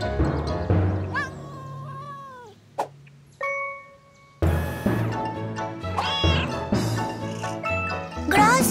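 A cartoon cat meows repeatedly in drawn-out, wavering cries, interrupted by a bright chime and tinkling sounds, with a short quiet gap midway.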